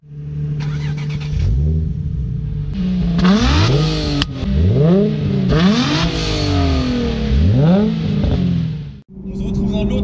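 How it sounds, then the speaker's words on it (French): A 2008-era Nissan 350Z with a naturally aspirated 3.5-litre V6 revs repeatedly, each blip rising sharply then falling back to idle, loud and close, with a brief cut near the end. "on a une super belle sonorité et tu profites du moteur à tous les tours minutes"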